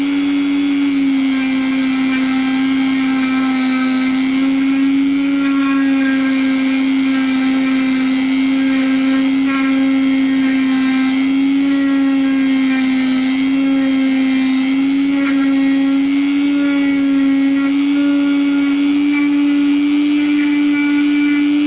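Dremel rotary tool fitted with a sanding end filing down an LED, a loud, steady high-pitched motor whine that holds a constant pitch for a long stretch, with faint scraping contact.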